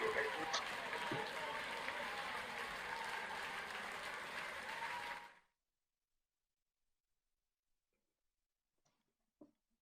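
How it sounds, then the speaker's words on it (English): Graduates of a university ceremony applaud over unmuted microphones, giving a dense, steady wash of clapping for about five seconds that cuts off abruptly into near silence, with only faint small clicks afterward. "Please can you unmute your microphones and applaud your fellow graduates."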